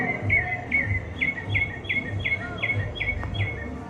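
A bird chirps a repeated series of short, bright, downward-sliding tweets at a steady rhythm, fairly close, over a low background hum.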